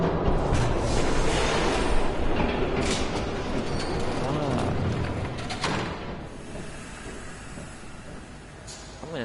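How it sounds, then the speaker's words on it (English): A train passes through a gritty scene in Batman: The Telltale Series, a loud, steady rumble with rhythmic clatter and faint squeals filling the whole stretch, fading slightly toward the end with a brief voice underneath. "There's a train coming."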